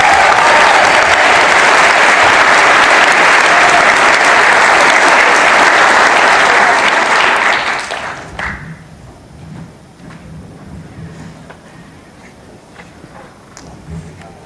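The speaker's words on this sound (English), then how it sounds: "Another round of applause for Chris, who courageously came on stage to" An audience applauds a performer who has just come on stage. Dense, loud clapping fills the first seven seconds, then fades away into a quiet room with a few scattered claps and faint shuffling.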